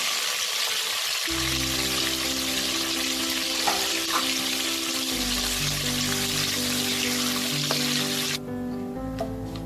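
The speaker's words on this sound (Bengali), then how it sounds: "তেজপাতা, গোটা গরম মশলা আর জিরেটা ফোড়ন দেব।" Bay leaf, whole garam masala and cumin seeds fry in hot oil for a Kolkata-style prawn biryani, giving a steady, close sizzle that runs unbroken through the whole stretch.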